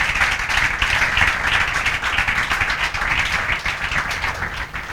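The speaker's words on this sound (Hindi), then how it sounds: "क्षितिज पाल के लिए जोरदार तालियां बजा" A room full of students claps together in a sustained, dense burst of applause in a classroom, steady and loud for several seconds with no voices over it.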